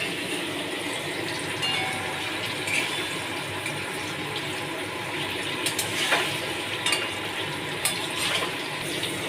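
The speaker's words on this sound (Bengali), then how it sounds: "এটা পনির ভাজা চলছে।" Paneer cubes frying in a pan give a steady, close sizzling hiss with occasional sharper crackles and pops scattered through it.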